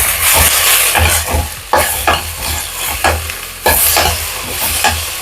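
Onion, garlic, ginger and tomato sizzle loudly in a pan, with a steady hiss broken by repeated scraping stirs of a utensil against the pan, close and continuous.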